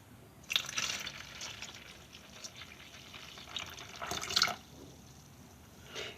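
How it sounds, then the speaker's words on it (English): Milk pours into instant pudding mix in a bowl with a soft, faint liquid splash, swelling in two brief surges over a low steady hiss. "and then add 2 cups of milk."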